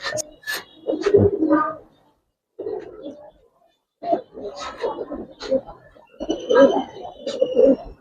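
Pigeons on a farm of coloured pigeons give soft, throaty coos close by in short bursts separated by brief pauses.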